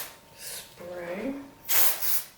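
Suave Professional dry shampoo sprayed onto natural hair in a short close hiss, preceded by a soft faint spray and a brief vocal sound.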